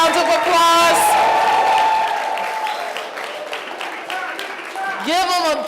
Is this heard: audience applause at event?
yes